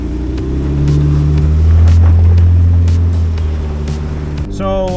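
Off-road vehicle crawling through a turn and climbing out on a closed forest trail, its engine droning steadily and loud up close, with a brief higher mechanical whine near the end.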